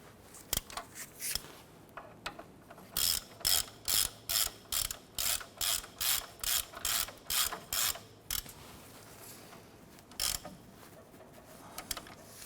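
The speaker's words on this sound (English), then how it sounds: "going to go ahead and snug down our bolts here" A hand ratchet snugging down bolts on a 1993-1997 Ford Ranger front suspension, clicking in a steady series of about a dozen short, sharp bursts, close up, with a few scattered clicks before and after.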